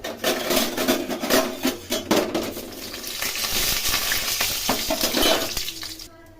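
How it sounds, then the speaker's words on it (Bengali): Bori lentil dumplings fry in hot oil for a vegetable torkari, giving a steady dense sizzle with scattered crackles and stirring clinks that runs loud and close before cutting off near the end. "তেল গরম করে এর মধ্যে বড়িগুলো ভেজে নিলাম।"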